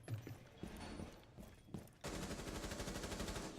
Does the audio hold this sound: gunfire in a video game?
yes